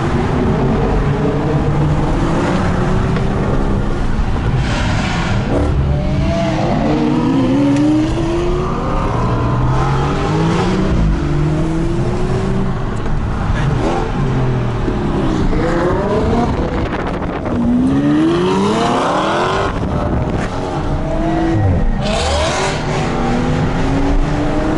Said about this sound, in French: ce convoi de voitures